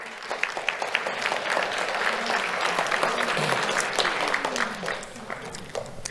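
An audience claps at a sheriff's office awards ceremony, a sustained round of applause at moderate volume that holds steady for several seconds, with some talk underneath.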